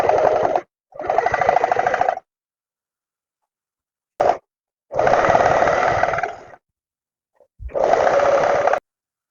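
Domestic sewing machine stitching a trouser waistband with a guide presser foot, running in three separate bursts of steady rapid whirring broken by pauses, close and loud with no talk.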